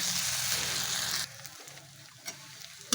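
Ginger-garlic paste fries in a pan for egg and pea ghugni while being stirred, a loud, dense sizzle for about a second that then drops to a faint crackle with a few soft scrapes.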